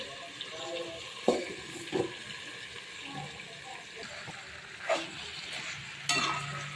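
Vegetable curry cooks covered in a pan, giving off a steady soft sizzle and hiss with a few sharper clicks and knocks scattered through, close by and with no talking.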